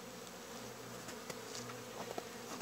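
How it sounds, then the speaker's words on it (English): Honeybees dropped during a hive inspection buzz in a dense, continuous hum close by, with faint individual wingbeats flickering over the steady drone. "Whoa, I'm dropping bees all over the place."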